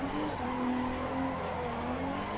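A car on supercar tires slides sideways through a drift in the racing game Assetto Corsa EVO. A sustained, wavering tire squeal rides over engine noise for the whole stretch, loud and close with no voices.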